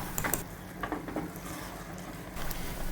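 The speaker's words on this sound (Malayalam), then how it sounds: "നല്ലപോലെ ഒന്ന് ഇളക്കിയെടുക്കാം" A sweet mixture for a Deepavali treat is stirred in a pan, giving a soft, continuous scraping and faint sizzle with a few sharper spoon strokes near the start and end.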